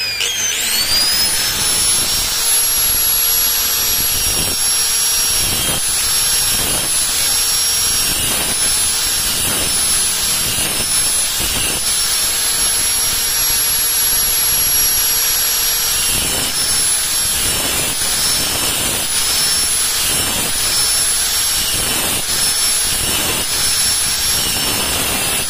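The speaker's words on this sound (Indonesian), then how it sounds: "Itu wajib ya, harus pakai gerinda." An angle grinder runs during a bearing replacement on a COSMOS standing fan, a loud, steady, high-pitched whine that holds for the whole stretch with small dips in load.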